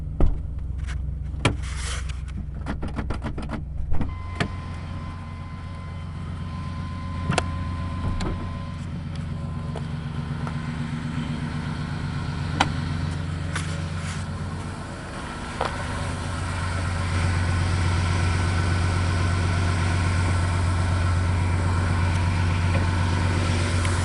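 A 1995 Chevy Cheyenne truck with a 5.7 liter 350 cubic inch small block cold starts with a few clicks and a crank, then settles into a low steady idle that grows louder toward the end.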